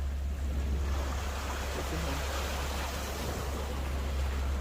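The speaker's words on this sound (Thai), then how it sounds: "แต่คลื่นมาแรง เพราะว่าคลื่นจากเรือใหญ่นะคะ" Sea waves from a large ship's wake wash and surge onshore in a continuous, fairly loud roar, with wind noise rumbling against the microphone and no talking.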